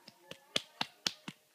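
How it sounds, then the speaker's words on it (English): A child clapping hands at home, six sharp claps spaced about a quarter second apart, close and fairly quiet with no talk over them. "that's a good clap"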